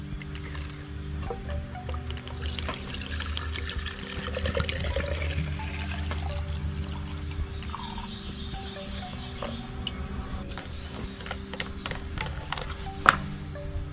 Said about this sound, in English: we need to get the fuel out of the fuel tank so we can get to the fuel filter